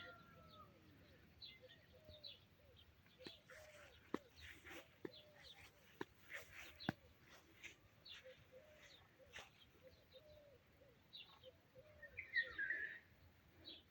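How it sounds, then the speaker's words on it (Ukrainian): A nightingale sings in a garden with blooming crape myrtle and hibiscus, repeating short whistled phrases and sharp chirps at a moderate distance, while other birds call faintly and quiet voices murmur in the background. "Ой, соловейку співає."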